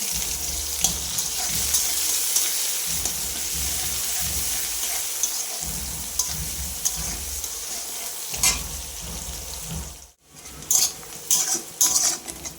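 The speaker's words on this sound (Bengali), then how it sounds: "পেঁয়াজ কুচানোগুলো দিয়ে দিচ্ছি" Chopped onions frying with a bay leaf in a pan, sizzling steadily up close while a utensil stirs and scrapes against the metal with intermittent clinks, followed by brief louder scraping near the end.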